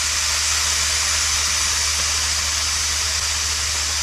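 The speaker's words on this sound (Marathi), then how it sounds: "गॅस लगेच बंद केला आणि आता लगेच सर्व वाफ आपल्याला काढून टाकायची" Steam hisses steadily and loudly from a pressure cooker being vented right after its whistles, with the gas turned off, while vegetable aamti with brinjal, drumstick and potato cooks inside; a continuous close rush with no talking.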